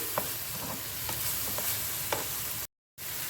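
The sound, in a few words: spices frying and stirring in a pan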